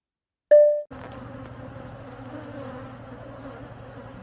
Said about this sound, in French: la première chose qu'on observe, c'est la quantité d'abeilles